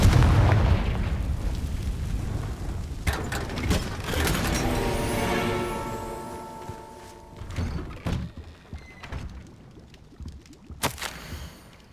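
In the Hogwarts Legacy video game, the Confringo fire spell sets off a loud booming explosion with a rumbling, crackling tail and mechanical thunks that fade into quieter game sounds.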